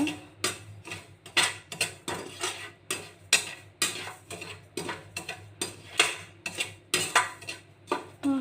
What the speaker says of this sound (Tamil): கொட்டிட்டு ஒரு தடவை நல்லா கலந்து விட்டுடுங்க.